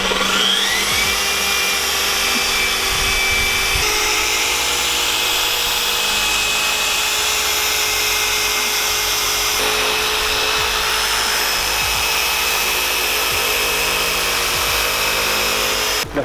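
Machine polisher buffs compound across the paint of a BMW E30, a steady, loud, continuous whirring drone with a high motor whine that runs unbroken throughout.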